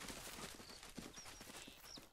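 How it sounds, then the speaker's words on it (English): Elk and moose hooves patter in theHunter: Call of the Wild as the animals run past, a faint, rapid flurry of soft hoofbeats over quiet outdoor ambience. "Elk running by, moose running by."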